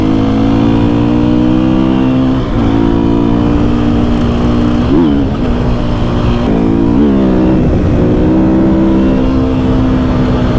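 A Sherco 300 enduro motorcycle engine runs loud and close, holding a steady tone with several quick revs and drops in pitch, with no voices over it.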